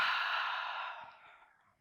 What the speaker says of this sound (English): Let's just take one more deep breath here.